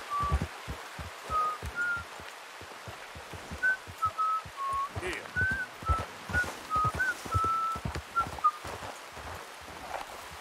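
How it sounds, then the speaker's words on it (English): Whistling in the video game Red Dead Redemption 2, a thin, wavering tone repeated in short phrases over a steady string of soft thumping footsteps or hoofbeats, moderately loud with no talking. "Why is there some whistling?"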